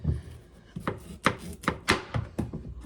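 A knife chops a carrot on a cutting board for vegetable soup, making a close series of sharp, slightly irregular thuds with no talking.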